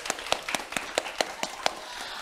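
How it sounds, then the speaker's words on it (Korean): Children at a temple-stay concert clap in a quick, even rhythm, about nine crisp claps in two seconds, close and clear with no talking. "박수 한번 주세요."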